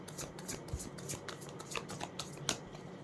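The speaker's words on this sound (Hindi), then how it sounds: "आई थिंक सारे कार्ड्स आ चुके हैं। लास्ट शफल है ये।" A deck of tarot cards is shuffled by hand, producing a quiet, continuous riffling flutter with small snaps and one sharper slap near the end.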